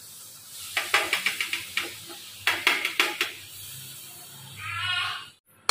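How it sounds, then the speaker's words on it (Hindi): Milk cream cooking in a pan to make ghee: two quick runs of metal spoon clinks against the pan, then a soft sizzling hiss that swells and fades, with no voices. "मैंने इसमें मलाई डाल दी है और इसे थोड़ा पकने देंगे थोड़ी देर के लिए"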